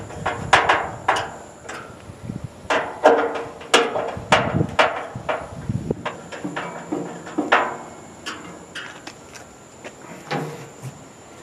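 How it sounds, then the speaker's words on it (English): Screws being tightened on a Pit Boss 600PS1 pellet smoker grill during assembly: a series of close, sharp metallic clicks, knocks and clatters at irregular intervals, with no talking. "So it tells you once you do that to tighten up all the screws"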